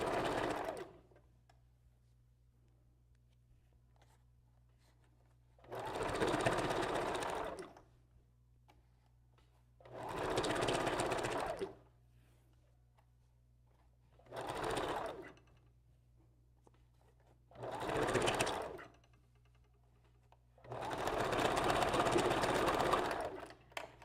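A sewing machine backstitching a track on a wig, running in six separate bursts of rapid stitching a few seconds long, each divided by quiet pauses, close and clear with no one speaking.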